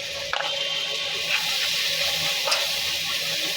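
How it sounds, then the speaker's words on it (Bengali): Chicken curry with turmeric being stirred and sizzling in a pan, a steady frying hiss with a few faint scrapes of the spoon, close and continuous, no voices. "ভালো মতো নাড়া দিব।"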